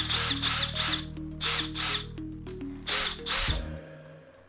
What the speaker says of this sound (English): The Milwaukee feels very responsive when pressing the trigger.